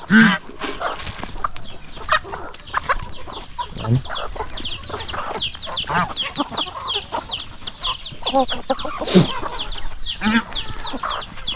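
Several hens cluck and chatter busily up close, overlapping calls in an irregular stream with occasional louder squawks.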